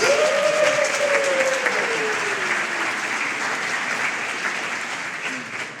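At a Class of 2024 baccalaureate ceremony for Hawaiʻi Preparatory Academy, an audience gives sustained applause, loud and dense. A voice rises briefly at the start, and the clapping thins slightly toward the end.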